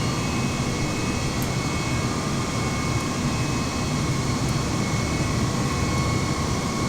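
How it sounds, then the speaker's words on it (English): Jet airliner engines roaring steadily during the takeoff roll past V1, a loud continuous broadband rush with faint high whine, unchanging throughout and heard alone without voices. "We just hit V1, so we're going to go ahead and take off."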